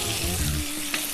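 Chicken breasts seasoned with salt and ground pepper hit a hot grill in a home kitchen, a loud continuous sizzle and hiss close up with brief stirring clatter and no talk.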